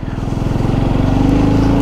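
A KTM Duke 250 motorcycle engine climbs a mountain road, revving loud and close with a rough, pulsing drone that rises steadily in pitch.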